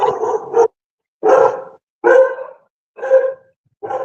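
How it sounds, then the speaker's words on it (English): A dog barks five times in a loud, close series, with short gaps between the barks and no voices over them. "Is that my dog?"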